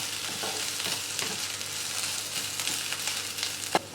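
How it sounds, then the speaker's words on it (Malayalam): Sliced onions sautéing in a pan over a low-medium flame for Kerala pork chops, giving a steady soft sizzle with occasional stirring scrapes and a sharper clink near the end, with no talking. "സവാള നന്നായിട്ട് വഴറ്റിയെടുക്കണം"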